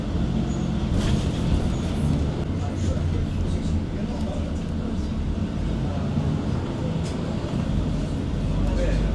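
Inside a moving bus in Morocco, a continuous low engine rumble and road noise throughout, with faint rattles and voices in the background.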